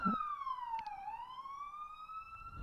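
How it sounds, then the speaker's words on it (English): A police siren wails in the distance, its pitch dipping and then rising again in one long, sweeping tone. "Big siren just went off outside."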